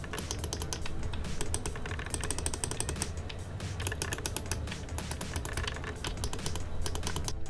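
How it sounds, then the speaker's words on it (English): Mechanical face buttons on a Razer Raiju PS4 Pro controller pressed rapidly, giving a dense stream of crisp, close clicks like fast typing, with no voices. "These buttons are actually mechanical buttons, so they've not got any travel"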